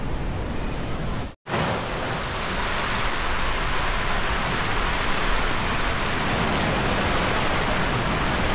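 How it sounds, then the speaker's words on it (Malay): Heavy rain falls at night over a campsite, a thick, steady hiss that fills the scene without letup after a brief break early on. "keadaan malam ni hujan lebat"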